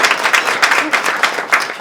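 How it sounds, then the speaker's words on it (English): An audience at an SBH caregiver education evening gives a round of applause, dense, steady clapping from many hands, fairly close and continuous. "I think we all do a very, very much a round of applause for SBH and the work that they do"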